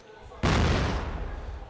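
A frag grenade detonating in a competitive first-person shooter match, one sudden loud blast that cuts in sharply and then rumbles and decays over about a second.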